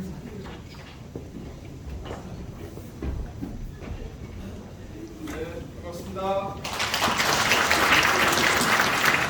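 Audience applause at a social economy committee launch ceremony in Heungdeok-gu: after a stretch of speech and room noise, a dense, loud burst of clapping from a crowd rises and carries on to the end.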